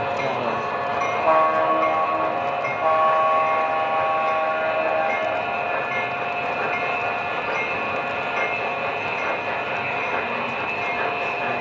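HO scale model train running on a 4x9 foot layout, a steady rolling hum with sustained horn-like tones over it, all at fairly even loudness.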